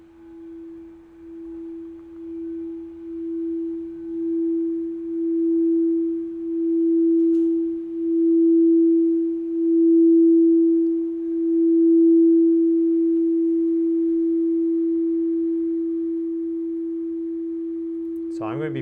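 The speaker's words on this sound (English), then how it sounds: "if you're wondering what the noise is, it's going to be this solar plexus sound bowl here" Solar plexus singing bowl sounding a single sustained, steady tone with a slow pulsing shimmer as it swells, ringing on alone for nearly twenty seconds before a brief knock at the end.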